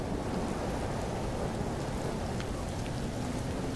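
In the video game Empyrion a thunderstorm's rain pours down in an unbroken, broadband hiss, with faint scattered drop ticks and a low rolling rumble beneath, steady throughout and free of speech.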